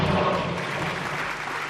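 A crowd applauding the mayor, a dense steady wash of clapping from many hands that holds evenly through the brief moment.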